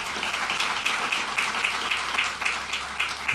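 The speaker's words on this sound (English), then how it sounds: "So give him a round of applause." Quiet, distant applause from an audience at a NASA event about lunar exploration, a soft steady patter of clapping with faint rhythmic peaks lasting a few seconds.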